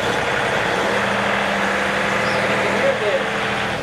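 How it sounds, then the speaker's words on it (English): Steady, loud drone of a John Deere utility tractor engine working with its transmission while reversing, a low mechanical hum continuous throughout, with a brief spoken word. "you can hear the engine working along with the transmission there"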